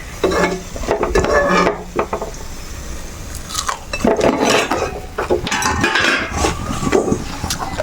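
Parippu vada, dal fritters, frying in a pan, a steady oily sizzle with clattering and scraping of a utensil against the metal, close and fairly loud throughout.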